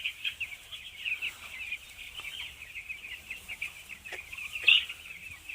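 Chickens raised on chopped straw bedding cluck and call steadily at moderate distance, a continuous flock chatter with one louder squawk near the end and no talk.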